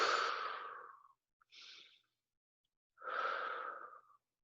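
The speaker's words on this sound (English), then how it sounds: "Couple more deep breaths." Deep breathing during a self-massage session: a long, close exhale, a short inhale, then another long, slow exhale, each breath clear and isolated against silence.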